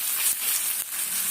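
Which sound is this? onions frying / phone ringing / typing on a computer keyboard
onions frying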